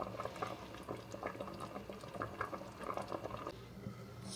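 Steady bubbling of a coconut milk dessert boiling in a pot, with soft popping and gurgling throughout, close and moderately quiet.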